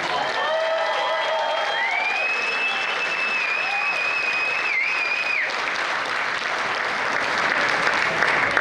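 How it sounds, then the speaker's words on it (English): Applause and cheering fill a community benefit event hall, a sustained broadband roar of clapping with high whistles and whoops rising over it early on, then continuing steadily and swelling slightly toward the end. "Give her a big round of applause."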